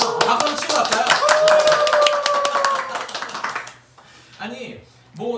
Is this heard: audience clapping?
yes